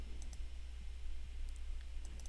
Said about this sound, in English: So then I will just continue to just click, click, click